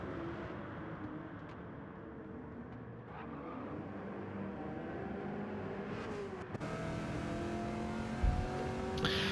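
Number 3 Chevrolet TA2 race car at Mount Panorama accelerating out of a corner, a steady engine drone that climbs in pitch and grows louder as it pulls closer, with another car's engine noise mixed in.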